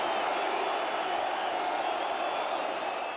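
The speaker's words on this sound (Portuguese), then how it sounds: "Fim de jogo e a torcida vilanovense foi à loucura." Vila Nova football supporters roar in a stadium at the final whistle of a 2-0 win, a dense, sustained crowd cheer that fills the whole stretch without a break.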